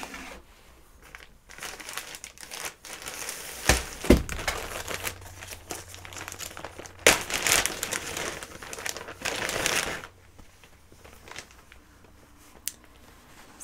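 Quilting cotton fabric being handled and unfolded from a paper envelope, with soft crinkling and rustling in bursts and a few louder crumples and taps, close up and with no voices.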